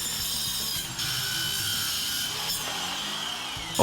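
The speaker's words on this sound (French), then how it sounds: "Regardez cette énorme cornière, la scie Buzzsaw n'en fait qu'une bouchée." A Buzzsaw mini circular saw cuts through large steel angle iron, giving a steady, continuous grinding whine with a bright metallic edge that holds for several seconds, close and loud, with no voices.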